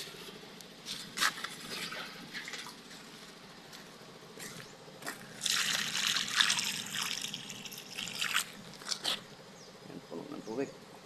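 Water is poured into a container until it is full, heard as uneven splashing bursts that come and go, with louder gushing in the middle, over a low background hum.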